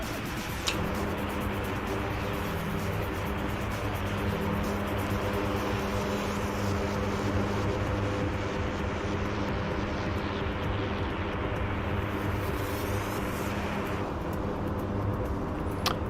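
C-130 Hercules turboprop engines droning in flight, a steady, loud, unbroken roar with a constant low hum heard from inside the aircraft and no talking.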